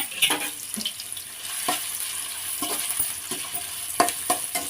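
Chopped beans and onion sautéing in a pan for chicken fried rice, a soft background sizzle punctuated by irregular sharp spatula scrapes and tosses, near and unaccompanied by speech.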